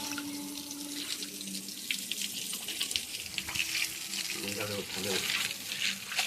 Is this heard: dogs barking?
no